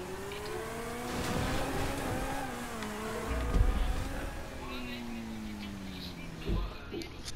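Game car engine in GTA drives steadily, its tone sliding up and down through gear changes, with low thumps and French-speaking players talking over it throughout.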